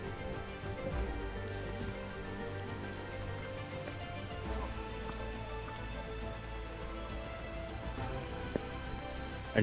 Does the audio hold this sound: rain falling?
yes